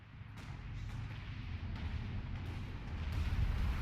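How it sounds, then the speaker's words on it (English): A Land Mattress rocket launcher fires in a World War II battle game around Caen, a dense continuous roar of launches and blasts building steadily louder over the few seconds with no talking. "Land mattress is firing again."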